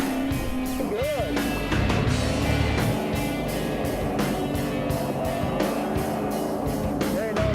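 A drift car's engine revs and pulls hard through a slide, loud and continuous with rising pitch sweeps, while a coach's voice talks over it throughout.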